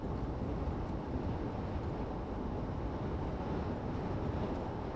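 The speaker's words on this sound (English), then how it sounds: "The wind's blowing me around a little bit" Steady wind rushes and buffets against a car driving along a road in Wyoming, a dense, even roar that continues throughout with no talk.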